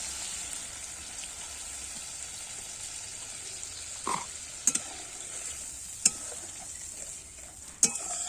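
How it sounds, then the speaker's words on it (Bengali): Beaten sour yogurt goes into a sautéed mixture in a pan for a Bengali doi begun (yogurt eggplant) dish, giving a faint steady sizzle with a few sharp stirring clinks and scrapes near the end. "এবার আমি টক দইটা ফাটিয়ে রেখেছিলাম দিয়ে দিচ্ছি"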